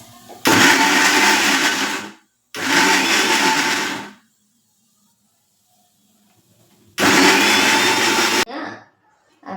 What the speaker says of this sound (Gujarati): હવે હું તેને મિક્સરમાં પીસી લઈશ